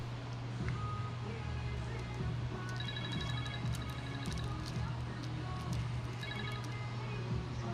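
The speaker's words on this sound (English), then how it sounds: "Phone ringing?" A phone rings in repeated short electronic bursts, a mid-volume trill partway through, set over a steady low hum and background noise in a tinting shop.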